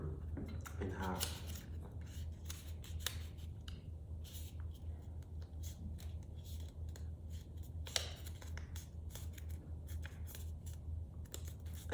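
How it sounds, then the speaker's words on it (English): A sheet of paper is folded in half for a kite fold in an arts-and-crafts project, heard as faint, crisp crinkles and scattered dry taps over a quiet background hum. "I'm going to fold my piece of paper in half."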